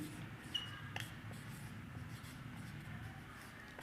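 Writing on a board during a math lesson, a faint steady scratching with a few light taps, close and quiet, with no talking.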